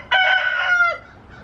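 A single loud rooster crow close by, about a second long, trailing off into quiet.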